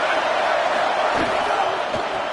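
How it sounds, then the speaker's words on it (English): A college football stadium crowd roars loudly and continuously, a dense sustained wall of cheering with a couple of dull thumps underneath. "This crowd rising up, sensing that its defense needs some help."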